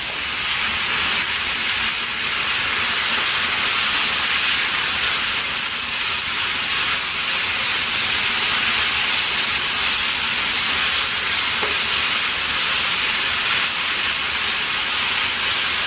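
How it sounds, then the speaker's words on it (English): Continuous loud hissing sizzle of vegetables frying in a hot pan, steady throughout with no voices. "We're just slightly frying them"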